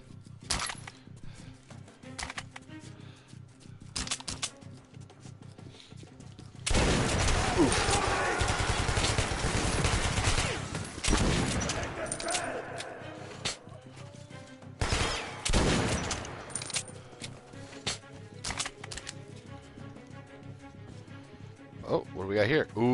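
Gunfire in the video game Metro Last Light comes as loud, sustained bursts broken by single shots, with a player talking over the fighting.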